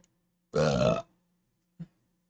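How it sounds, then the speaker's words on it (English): A single loud, close, half-second burp from a man, followed by a brief faint throaty sound, otherwise quiet. "Sorry, I had to burp there."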